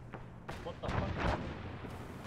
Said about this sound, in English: Artillery.